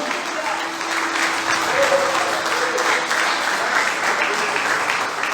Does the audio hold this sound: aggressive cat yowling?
no